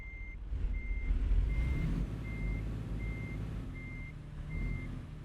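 A truck's reversing alarm in a truck simulator video game, sounding as a steady series of evenly spaced beeps over a low, continuous engine rumble.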